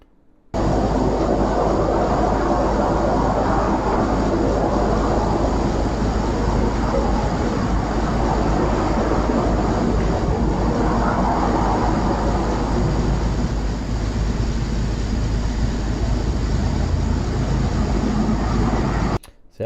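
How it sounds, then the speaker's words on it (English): Cars passing in a played-back recording, a continuous loud traffic roar with slow swells as vehicles go by, steady throughout, with no talking. "See, I just keep hearing cars and cars and cars."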